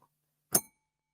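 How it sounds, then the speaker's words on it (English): Single short bell strike during a primary school stage performance of Macbeth, one bright clang that fades quickly into silence. "The bell invites me."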